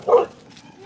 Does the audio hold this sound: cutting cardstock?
no